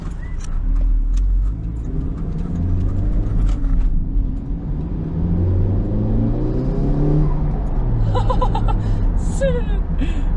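A turbocharged Toyota MR-S engine drones and rises in pitch as it accelerates, with a whooshing intake sound and brief voices near the end.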